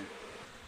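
Honey bees gathered at the hive entrance after losing their queen, producing a steady, dense buzzing hum with no breaks and no talking.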